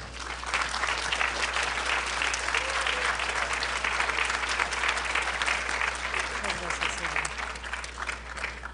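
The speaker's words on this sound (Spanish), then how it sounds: "les pido un fuerte aplauso para nuestras grandiosas invitadas del día de hoy" An audience applauds the guest speakers at a book festival conversation, a dense, steady clapping that stays loud and even for about nine seconds, with no voices heard over it.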